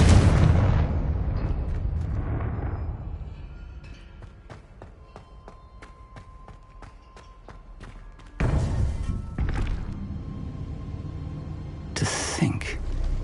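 A Confringo spell explosion in Hogwarts Legacy opens with a loud, booming blast that decays over a few seconds. Later, sharp impact bursts follow, with faint game sounds in between.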